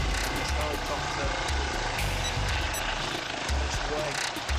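A helicopter flies away over mountains, its rotor and engine noise a steady, loud, rumbling wash with talking over it throughout.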